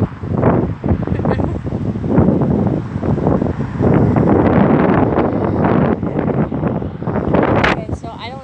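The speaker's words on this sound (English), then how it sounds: "I just wanted to show you that it's super windy down here in Iowa." Strong wind in Iowa buffeting the microphone, a loud continuous roar with gusty surges, with a voice talking underneath.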